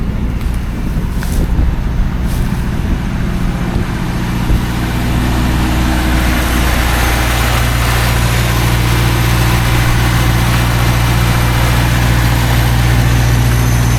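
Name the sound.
rare minitruck engine running and idling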